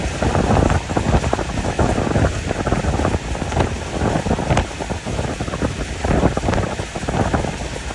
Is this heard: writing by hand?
no